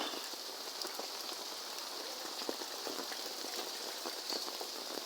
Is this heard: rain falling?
yes